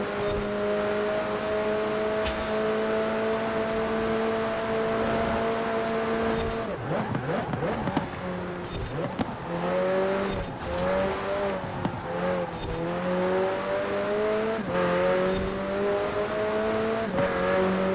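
Race cars in Forza Horizon 4 on a custom track, including a Ferrari, roaring steadily for the whole stretch with sustained engine drone, shifting pitch as they rev, brake and accelerate through corners, with brief tire noise.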